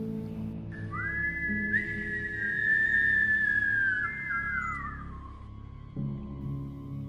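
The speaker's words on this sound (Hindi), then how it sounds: "लेकिन तीसरी रात वो सीटी घर के ठीक नीचे बजाई गई।" A long sustained whistle blown at night in fog, wavering and sliding in pitch for several seconds over a low droning background, fairly loud and close, with no talk.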